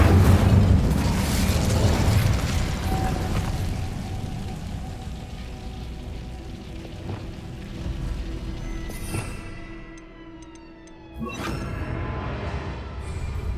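Incendio fire spell cast in the video game Hogwarts Legacy: a loud roaring burst of flame with booming rumble, fading into crackling tails and a brief drop before another surge of fiery noise.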